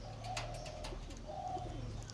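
Andhra Lalsira pigeons coo softly in a loft, low throaty calls repeating a couple of times close by and fairly quiet.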